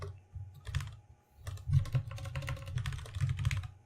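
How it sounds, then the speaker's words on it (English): Rapid clacking of keys on a mechanical keyboard, close and fairly loud, with a brief lull near the start and then steady fast typing with no voices. "if I do stuff like typing on my mechanical keyboard"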